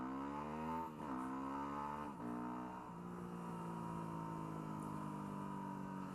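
A Yamaha WR250R dirt bike engine revs up, its pitch climbing and dipping a couple of times before settling into a steady, strong drone, heard alone and close.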